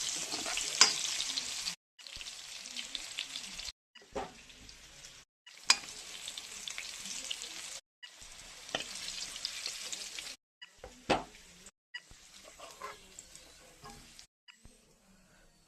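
Potatoes frying in hot oil in a pan give a steady, close sizzle broken by several short pauses, with occasional scraping stirs and no talking.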